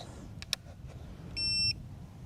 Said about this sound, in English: Yeah, and it just beeped.